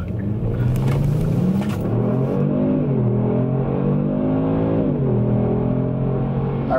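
A Kia Stinger GTS accelerates hard, heard from inside the cabin. Its engine drone rises steadily in pitch, dips briefly at a shift, then climbs again, loud and continuous.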